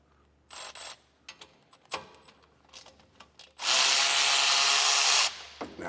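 Tool work on a pickup's wire guards with a T40 bit, giving scattered short clicks and scrapes, then a loud, steady buzz of a power driver for about two seconds, close by with no talk.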